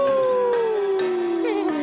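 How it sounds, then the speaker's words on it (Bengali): A cartoon dog gives one long mournful howl that slides slowly downward in pitch, loud and close, with faint noisy bursts pulsing behind it. "কুকুরের কান্নার একটা আওয়াজ শোনা গেল"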